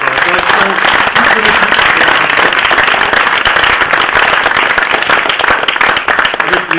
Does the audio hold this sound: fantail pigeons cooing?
no